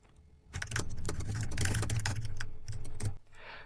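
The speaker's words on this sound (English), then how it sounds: "And again, I'll type a description." Rapid clattering on a computer keyboard as a description is typed, a dense close burst of keystrokes lasting a few seconds before stopping.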